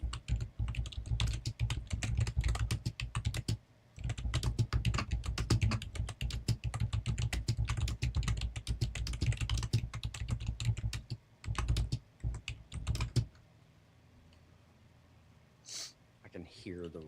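Rapid, forceful typing on a computer keyboard, dense clattering keystrokes for several seconds with brief pauses, then stopping as quieter sounds follow.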